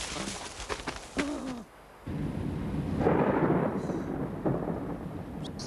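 Thunder rumbles in a forest as the weather worsens, a low rolling roar swelling in the middle and fading, after brief hooting bird-like calls at the start.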